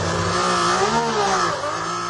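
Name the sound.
Ferrari engine misfiring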